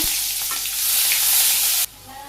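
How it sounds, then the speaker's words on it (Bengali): Cumin seeds and chopped onion crackle in hot oil in a village kitchen pan, a loud bright sizzle that cuts off abruptly near the end, leaving a quieter hiss. "আবারও তেল দিয়ে দিলাম। জিরে ফোড়ন, পেঁয়াজ কুচি"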